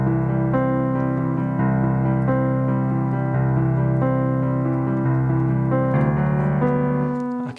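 Piano accompaniment chords for a song, sustained block chords on a C harmony changing every couple of beats, ringing and steady with no voices.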